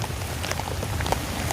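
Rain falling steadily on a surface, a soft continuous patter with scattered louder drops, fairly quiet and with no talk.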